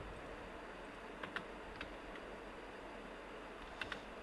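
Keys tapped on a computer keyboard while entering AutoCAD commands: a few faint, sparse clicks in small pairs and singles over a quiet hiss of room noise.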